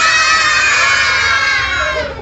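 Children at a school morning assembly shout together in one loud, sustained high-pitched burst that holds steady, then fades and breaks off near the end.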